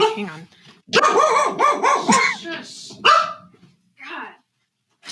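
A dog barks in a few loud, close bursts, with a whimpering yip near the end, while someone talks and reacts over it.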